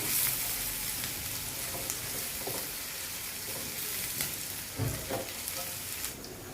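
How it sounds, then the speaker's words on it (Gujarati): Finely chopped capsicum sautés in a pan for matar paneer pulao, a soft, close sizzle and crackle with occasional stirring scrapes, no voice over it. "હવે અડધો નંગ કેપ્સિકમ ઝીણું કટ કરેલું એની પણ કચાશ દૂર થાય ત્યાં સુધી તેને સાતરી લઈશું."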